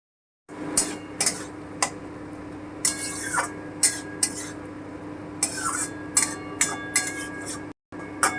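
A spoon stirs pointed gourd, taro stolons and mixed vegetables with green chili paste in a pan: irregular metallic clinks and scrapes, fairly close, over a steady low kitchen hum with no talking.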